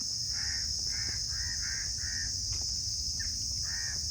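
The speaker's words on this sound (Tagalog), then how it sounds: "dami ibon" Crows caw repeatedly from shady trees where many birds are nesting, a series of about eight harsh calls at moderate distance over a steady high insect drone.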